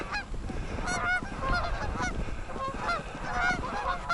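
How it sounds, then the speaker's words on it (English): Many geese on the water honk over and over in a noisy flock, calls overlapping continuously with a low rumbling background. "the geese are still all down here on the water"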